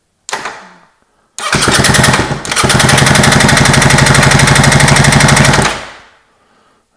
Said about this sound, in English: I'm just going to push the electric starter button and hold the throttle wide open at the same time